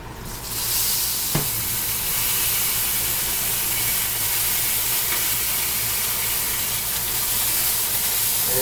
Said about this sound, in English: I'm going to finish searing these little edges.